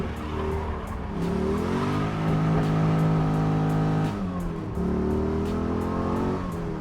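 A Pontiac with an LS1 engine revving up through the gears, pitch rising and dropping with each shift, steady and close from inside the car.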